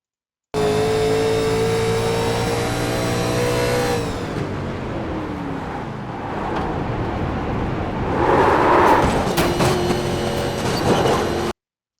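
A NASCAR Legends race car at Rockingham in the iRacing sim, its engine holding a loud steady tone, then dropping off and coasting with falling pitch before revving back up, with no voices over it.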